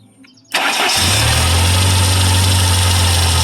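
A 1989 Utilimaster Aeromate engine with an exhaust leak cranks briefly, catches with a loud burst, then settles into a rough, steady idle up close.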